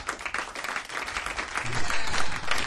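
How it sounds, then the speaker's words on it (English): Comedy club audience breaks into loud, sustained applause, a dense wash of clapping that swells toward the end, with faint crowd voices mixed in. "Unbelievable crowd. I never heard applause like this."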